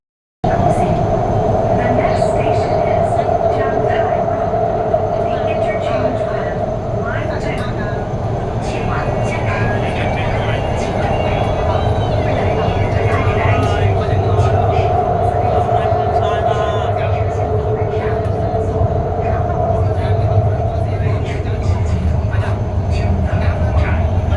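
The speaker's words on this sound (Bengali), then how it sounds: "প্রতিটি স্টপেজে দাঁড়াবে এই মেট্রো" A Wuhan Metro train runs with a loud, continuous rumble and a steady hum, unbroken for the whole stretch.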